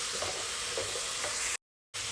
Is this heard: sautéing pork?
yes